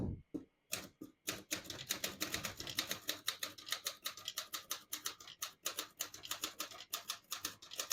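A 1937 Corona Standard portable typewriter being typed on, close up, with a steady run of sharp mechanical key strikes and clacks alone, no voices.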